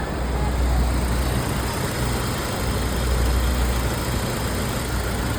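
A car engine idles steadily nearby with a low, even rumble and a faint vibration, no revs rising or falling, and nobody talks.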